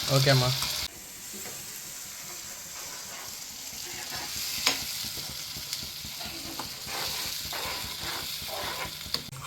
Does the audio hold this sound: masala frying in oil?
yes